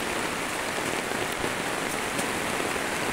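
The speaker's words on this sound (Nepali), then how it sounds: "भयङ्कर पानी पर्यो त यो हाम्रो खेतमा चाहिँ यस्तो झर्दैछ धारा" Heavy rain pours down steadily onto a farm field, a dense, loud hiss of drops hitting the ground with no pauses.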